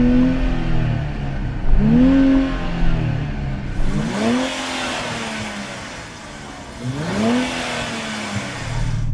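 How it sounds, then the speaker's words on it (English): A 3-litre V6 turbo car engine revs in repeated rising bursts, each climbing then dropping back to a steady idle, loud and close with no talking. "I'm going to rev up my 3-litre V6 turbo."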